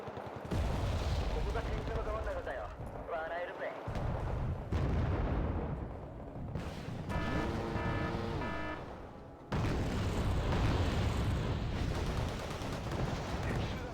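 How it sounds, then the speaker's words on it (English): Anti-tank guided missiles striking and exploding in the Wargame: Red Dragon strategy game, a series of loud booming blasts and bursts of gunfire with a brief whine in the middle; voices chatter faintly underneath. "they are bombarding me with anti-tank guided missiles"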